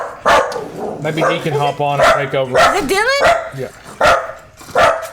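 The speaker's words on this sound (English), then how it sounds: "Sorry for the barking, guys." Several excited dogs bark and yip loudly in short repeated bursts at close range, mixed with a whimpering whine, while people talk over them during a Resident Evil 4 Remake game session.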